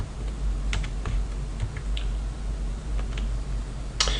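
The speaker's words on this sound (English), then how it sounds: "Test 75 if I can type." Rapid computer keyboard typing, scattered clicks of keys over a steady background hum, close and fairly loud with no voice.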